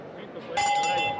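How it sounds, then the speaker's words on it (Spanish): Boxing ring bell ending the sixth round of a professional bout, a single bright ringing tone that sustains and slowly decays, loud against crowd noise and commentary. "quiere salir del fondo Tosorato, pero recibe la derecha cruzada, campana."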